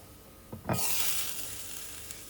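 Chitoi pitha batter hits a hot wok with a sharp burst of sizzling that then holds steady as it cooks, close and fairly loud, with a faint clink just before the pour and no talking.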